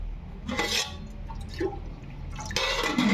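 Water trickles and splashes into gram flour batter being mixed for mirchi bajji, in short wet bursts with a faint stirring clatter and no talking.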